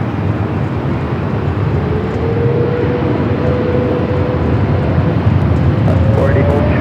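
A jet airliner takes off from Los Angeles airport: a loud, steady, broadband engine roar that holds throughout, with a faint rising whine near the end.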